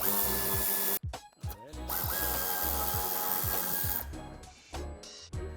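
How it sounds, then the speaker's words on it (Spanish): A power tool loosens the screws holding the AdBlue tank on a 2018-2024 Dacia Duster II, a loud steady whirring drive broken by brief stops and restarts, with rattling mechanical knocks between bursts. "Aflojaremos los tornillos que lo sujetan."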